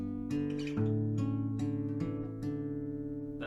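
An acoustic guitar plays the opening two chords of the intro to a song, each chord plucked in a gentle, ringing pattern with clear sustained notes, alone and close.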